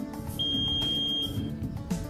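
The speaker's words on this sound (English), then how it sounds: "Along with the sixth bar graph step, another indicator, an audible alarm, will be activated." A voltage detector from an F.V.D. test set sounds its audible alarm as one steady, high-pitched electronic beep of about a second over a low background hum.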